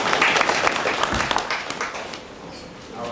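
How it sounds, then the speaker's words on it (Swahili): Audience clapping at a parents' orientation event at a Kenyan girls' high school, a steady broadband patter of many hands filling the room, easing off toward the end. "Tupige makofi."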